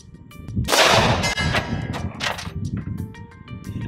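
A Glock 40 MOS 10mm longslide pistol fires two sharp shots, each followed by a ringing clang of the bullet striking steel, loud and close with short metallic decays and no talking.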